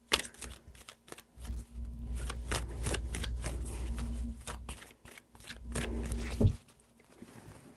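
Tarot cards are shuffled close up in a run of quick riffling bursts and crisp slaps, ending with a sharp tap before quiet.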